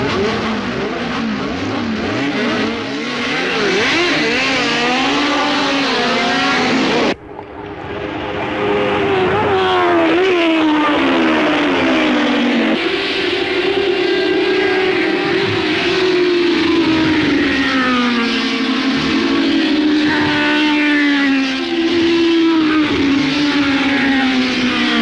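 Toyota race cars with 1600cc 16-valve DOHC 2TG engines roar around a circuit, engines revving high and shifting pitch as they accelerate and pass, loud and continuous, with a brief drop before the racket resumes.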